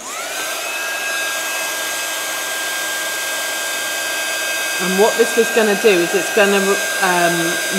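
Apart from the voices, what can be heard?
heat gun blowing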